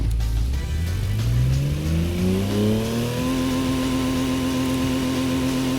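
A loud, raw car engine revving up steadily, its pitch climbing and then holding at a high, harsh drone with a rough, unmuffled rasp.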